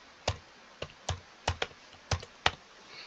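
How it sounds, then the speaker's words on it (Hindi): Password being typed on a computer keyboard: about nine separate key presses in an irregular rhythm, close and clear, with no voices. "आपको आपका अपना पासवर्ड टाइप करना है।"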